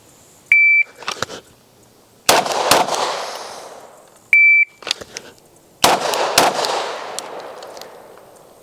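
Handgun shots fired while drawing from a holster on a range, two bursts of several sharp, loud reports each, every string starting after a shrill electronic shot-timer beep and ringing off into echo.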